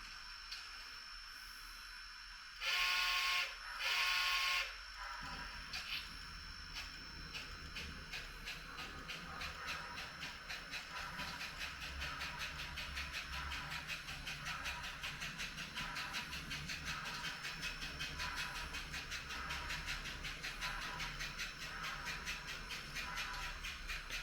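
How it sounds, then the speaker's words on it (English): An HO scale model passenger train sits stopped at a saloon on a layout, giving a faint steady motor hum and hiss with a rhythmic ticking, after two brief louder bursts near the start. "Number 21 has stopped with the passenger train to let a few people out at the saloon before proceeding on to the station."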